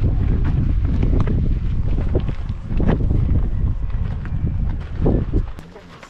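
Strong wind buffeting the microphone outdoors in Tunisia, a loud continuous low rumble with gusty surges that eases toward the end, with voices partly under it.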